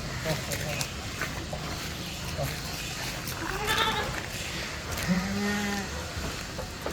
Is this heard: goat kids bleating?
yes